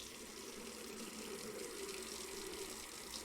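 Water gushing steadily into a brew pot in the Brewmaster beer brewing simulator game, a continuous, fairly quiet tap-like flow with no pauses.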